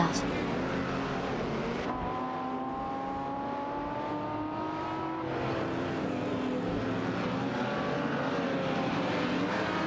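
Racing cars in a racing game, a Ford Mustang Boss 302 and a Ferrari 250 LM among them, give off a steady engine drone with a rising and falling pitch as they pass, while a commentator talks throughout.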